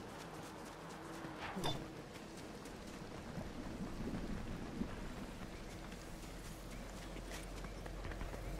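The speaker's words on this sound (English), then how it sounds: "yeah, it's just the storm" A thunderstorm with rain in Star Wars: Knights of the Old Republic, a steady wash of rainfall with low rumbling thunder and a few sharper cracks.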